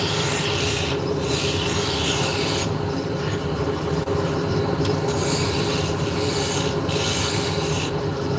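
A spindle gouge cuts into wood spinning on a lathe while drop spindles are turned, making a continuous loud, close rasping scrape with slight periodic swells in texture and no voices.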